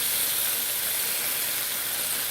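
Catfish sauteing in a pan with freshly squeezed lemon juice while cooking outdoors in the rain, a loud, steady, broadband sizzle and hiss that persists evenly throughout with no speech.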